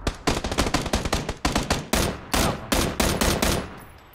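Gunfire in PUBG: a rapid, loud string of close gunshots in quick bursts, then several slower, evenly spaced single shots with short ringing tails.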